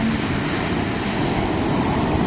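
Strong sea waves pounding a beach where few people are swimming, heard as a steady, dense roar of rushing surf and water noise with no break.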